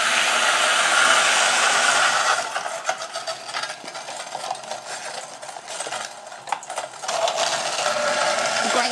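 Kitchen grinder reducing stale, oven-dried bread to breadcrumbs: a loud whirring motor drone that dips and wavers midway as the chunks break up, then rises again toward the end.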